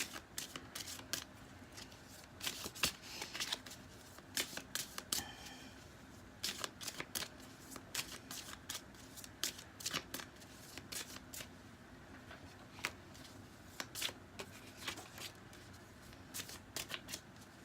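Tarot cards being shuffled by hand, a dense run of crisp riffling snaps and flutters coming in bursts, close and fairly quiet with short pauses between runs.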